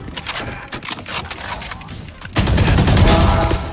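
Rapid gunfire bursts in a shooter video game, a stuttering run of shots followed by a louder, denser burst of fire near the end.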